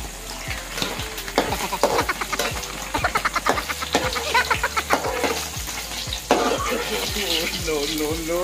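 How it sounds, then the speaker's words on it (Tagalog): Food sizzles and crackles in a hot frying pan, close to burning, with rhythmic stirring or scraping sounds, steady and close throughout. "Muntik na nasunog yung prito natin guys."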